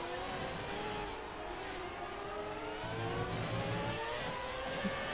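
A 2006 Renault Formula 1 car in the F1 2019 racing game accelerates hard, its high engine note climbing steadily in pitch through the gears, loud and continuous throughout with no talk.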